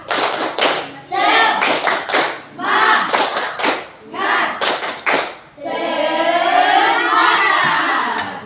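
A group claps a rhythmic spirit cheer in a classroom, sharp bursts of hand claps in patterned groups, followed by a sustained chorus of voices shouting together.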